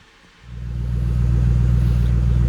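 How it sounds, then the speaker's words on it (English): A 1970 Ford F100 with a swapped Coyote V8 fires up and settles into a deep, loud, steady idle through RTR Tactical Magnaflow exhaust, a throbbing low burble close by. "Here's the Shelby idling with these RTR Tacticals that American Muscle says won't fit"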